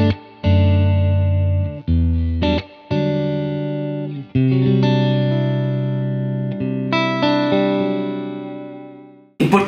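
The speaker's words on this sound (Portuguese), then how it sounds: "Portanto, esse é o som da minha guitarra." Clean electric guitar through an amp simulator with native reverb, neck and middle pickups (SSL-2 single coils), playing sustained chords and arpeggiated notes that ring out and decay, loud and alone.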